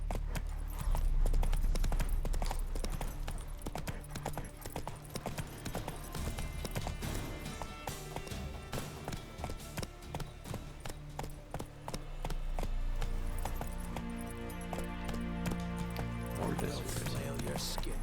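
Roach, Geralt's horse in The Witcher 3: Wild Hunt, gallops with a steady, driving clip-clop of hooves, loud and close throughout, while someone talks over the ride and game music plays softly.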